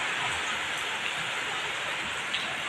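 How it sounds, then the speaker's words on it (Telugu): Sudden rain falls in a small home garden, a dense, even hiss of drops that stays constant and fairly soft throughout, with no voices. "ఇంత సడన్గా వర్షం పడుతుందండి"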